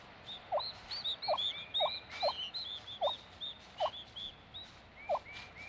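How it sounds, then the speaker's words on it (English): A wild female turkey in Shenandoah springtime calls her days-old chicks from the nest, giving a series of short clucks at roughly even intervals, with thin high peeping from the chicks and faint birdsong around. "A female turkey urges her chicks from the nest with a special call."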